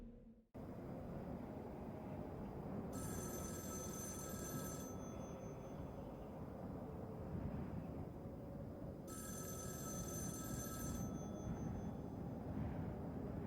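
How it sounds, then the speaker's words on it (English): A telephone bell rings in two long bursts separated by a pause, heard over a constant low rumbling background in a horror film scene. "the phone rings again"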